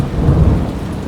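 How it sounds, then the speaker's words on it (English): Steady rain pours down at a cemetery with a low, rolling rumble of thunder swelling and fading beneath it, loud and close throughout with no voices. "it started raining and thundering"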